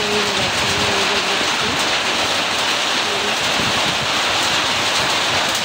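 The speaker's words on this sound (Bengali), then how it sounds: "বাহিরে হচ্ছে অনেক বৃষ্টি হচ্ছে হঠাৎ করে" Heavy rain pours steadily outside on a cloudy morning, a dense continuous hiss with rumbling low patter, loud and unbroken from start to finish with no voices.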